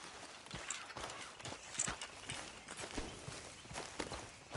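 Horse hooves clip-clop at a steady walking pace on a hard surface, close by, with a faint background hum, from the video game Red Dead Redemption 2.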